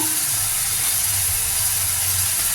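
Green chillies and tomato hitting hot oil in a pan, a loud, continuous broad hiss and sizzle that holds steady without pause.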